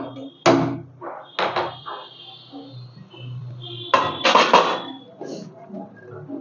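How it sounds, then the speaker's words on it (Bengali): A frying pan is set down on a lit gas stove, making a few sharp metallic knocks and clanks separated by quieter handling noises in a home kitchen. "ওই ফ্রাই প্যানটা বসিয়ে দেবো"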